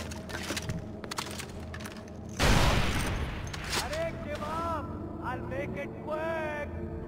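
A gun fires in Far Cry 4 on a custom arena map, a loud burst of gunfire erupting partway through over game noise and engine hum, followed by whistling, warbling game sounds.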